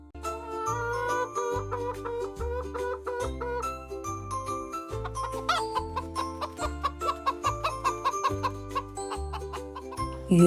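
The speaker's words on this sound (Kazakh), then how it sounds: "тауық," A domestic chicken clucks repeatedly at close range, the short clucks coming in a quick uneven rhythm that grows denser toward the end.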